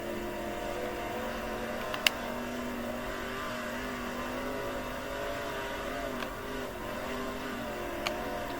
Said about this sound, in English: So now the car starts getting kicked into gear.